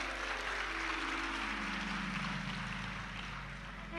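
A large audience claps continuously at a Hindi devotional discourse about Goddess Lakshmi by Pandit Pardeep. The applause forms a dense, steady wash of noise that fades slightly toward the end, with no voices.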